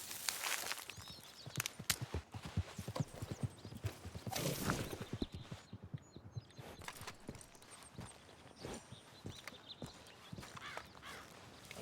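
Hooves clop steadily on hard ground in a rhythmic walking pattern in Red Dead Redemption 2, close and clear, with a brief horse whinny partway through.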